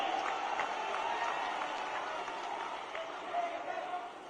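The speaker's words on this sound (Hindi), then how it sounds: "सभी लोग ऐतिहासिक तालियों से राहुल जी का स्वागत करें" A rally crowd claps to welcome Rahul Gandhi, a steady patter of distant applause under a loudspeaker voice, thinning slightly toward the end.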